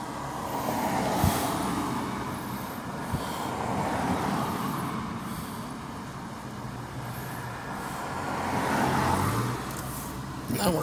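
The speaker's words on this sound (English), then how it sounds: "More cars coming back there than I thought." Cars passing on a street among abandoned buildings on 5th Avenue in McKeesport, Pennsylvania, a moderately loud swelling whoosh of traffic that rises and fades several times, with no talk.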